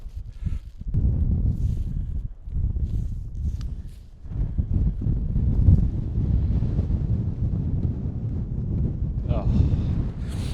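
Strong wind gusting across an open golf course, a loud, low buffeting roar pressing on the microphone almost without break, dipping briefly a few times before surging back.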